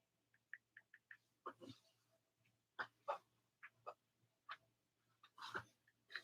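A dog licks repeatedly, making soft, faint, wet clicking and smacking noises in irregular short bursts spread over several seconds in a quiet room.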